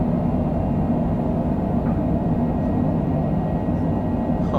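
A Cessna Citation Longitude business jet lands with its thrust reversers deployed, heard as a loud, continuous, deep rumbling roar that stays steady throughout.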